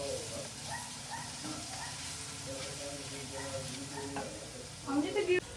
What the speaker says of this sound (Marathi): हे चांगल्या प्रकारे आता परतून झालंय.